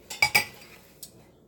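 Metal spoon clinking against a pot while stirring three cups of fresh blueberries for a pie filling, a few quick close taps followed by one lighter clink.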